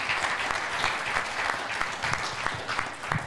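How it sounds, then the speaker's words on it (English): Audience applause for performers at a live event, a steady wash of many hands clapping throughout, fairly loud and close, with no talking over it. "How about another round of applause for our performers here today"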